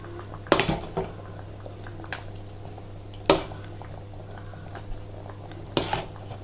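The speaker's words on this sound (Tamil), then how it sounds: "இப்போது இந்த சாதத்தை அப்படியே நம்ம அதில் சேர்த்துக்கலாம் சேர்த்து நல்லா கலரிக்கலாம்" Cooked rice tipped into kuzhambu and stirred: a few soft, wet squelching knocks spaced over several seconds, faint against a low steady hum, with no talk.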